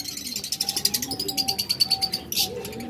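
A pair of lovebirds with chicks chirps in quick, repeated bursts at close range, the calls overlapping with a few brief cooing notes and no one speaking.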